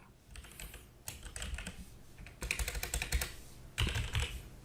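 Fingers typing on a computer keyboard while filling in an Excel payment voucher, with quick bursts of close, clicky keystrokes separated by short pauses.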